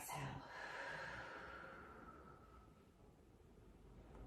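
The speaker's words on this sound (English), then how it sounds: "as you exhale, let all the stale air out" One deep, breathy exhale during a pilates breathing exercise starts strong and softly trails away over a few seconds, close and quiet with no other sound.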